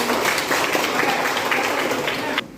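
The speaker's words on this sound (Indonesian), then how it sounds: "Tepuk tangan dulu ya." Students in a classroom clap together, a dense burst of applause that runs steadily and then cuts off abruptly near the end.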